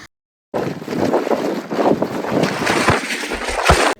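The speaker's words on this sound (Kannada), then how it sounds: "ಸೊ ನೀವು ನೋಡ್ಬೋದು ಇಲ್ಲಿ ಯಾವ ತರ ಗಾಳಿ ಬರಾಕತೈತಿ ಅಂತ" Strong wind at Mugilpete in Coorg roars steadily into the microphone, gusting and buffeting with low rumbling bursts, no voices.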